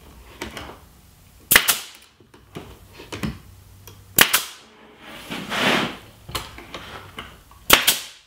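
1x2 bracing pieces are nailed to the apron of a homemade ping pong table, with several sharp, loud single hammer strikes spaced a second or two apart amid softer knocks and handling noise.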